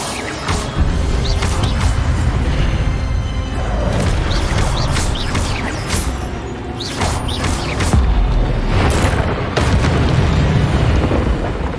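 Repeated fiery spell blasts and booming bursts from combat in Hogwarts Legacy, the Incendio fire spell mixed with other magical impacts, loud and dense with sharp cracks at intervals over a constant rumbling din.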